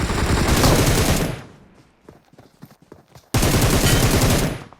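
Rapid bursts of automatic gunfire in the mobile battle-royale game PUBG Mobile, loud and dense for over a second, a quieter gap with scattered sharp shots, then another loud sustained volley.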